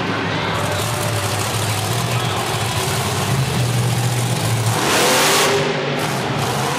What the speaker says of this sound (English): launching the truck over the cars, more vertical than anybody